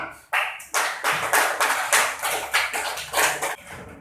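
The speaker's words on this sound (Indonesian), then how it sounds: "Tepuk tangan" Schoolchildren clapping in a classroom: a series of bursts of handclaps, some in quick rhythmic groups, moderately close and fairly quiet, with no talking over them.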